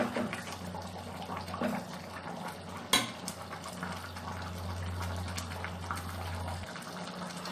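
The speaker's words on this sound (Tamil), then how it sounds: "இப்போ இது நல்லா கொதிச்சிருச்சு." A pot of ennai kathirikai kuzhambu curry simmers at a full boil, giving a steady, soft bubbling hiss over a low hum, with a single clink near the start.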